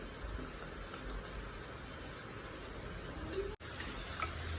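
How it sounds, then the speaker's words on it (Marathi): Crab-style onion bhaji frying in hot oil until reddish and crisp, a steady soft sizzle running the whole time at low level, with a brief sharp knock near the end. "आपण दोन्ही साईडनी छान असं लालसर होईपर्यंत तळून घेऊत"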